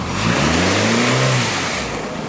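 A tall Nissan car drives uphill and accelerates, its mid-pitched engine revving up and then easing off in one close, loud surge that lasts a couple of seconds.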